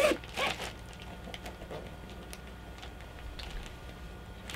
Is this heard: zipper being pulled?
yes